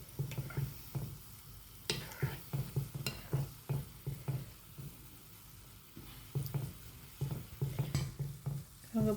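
Gulab jamun sizzle and bubble in hot oil as they are turned over and over, with soft rhythmic stirring taps and scrapes repeating close by at a low level.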